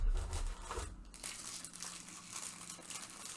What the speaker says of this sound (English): So pardon the rustling as I